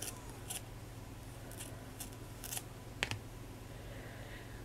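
Scissors snipping through craft material for an altered ballerina figure, a few short, crisp cuts spaced apart against a quiet background.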